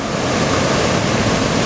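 Ocean surf breaks continuously on the beach at Anglet, a loud, dense roar of rushing water and wind with no pauses.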